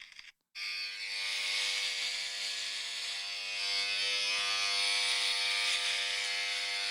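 An electric razor buzzes close to the microphone: after a short click and brief silence, a loud, steady whining hum runs continuously for several seconds, alone without speech.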